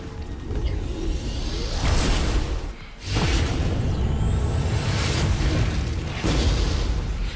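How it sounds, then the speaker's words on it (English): Molten's third skill in the Artery Gear game sets off a series of loud, booming explosion effects, with whooshing sweeps and bursts repeating over several seconds. "I did like the explosion"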